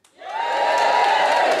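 A stand-up comedy audience bursting into loud cheering and whooping that swells quickly and holds as a dense, sustained roar of many voices.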